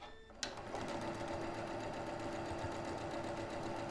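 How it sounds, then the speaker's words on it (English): A sewing machine runs steadily as quilt block units of squares and rectangles are stitched together, its fast even whirring beginning after a brief click and continuing close and moderately loud to the end. "I'm going to sew those together."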